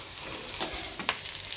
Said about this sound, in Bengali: এদিকে পেঁয়াজ কাঁচা লঙ্কা দিয়ে আলু ভেন্ডি ভাজা হচ্ছে